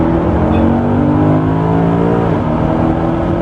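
A Maserati engine revving hard at high rpm, loud and close, its steady harmonic tone holding and then dropping slightly near the end, with no talking.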